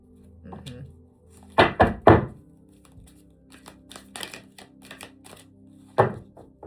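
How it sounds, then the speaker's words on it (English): Tarot cards being shuffled by hand, giving loose papery riffles and several sharp slaps and thumps of the deck at irregular intervals, with a faint low hum underneath. "If I'm shuffling this way, the cards need to try and fly out."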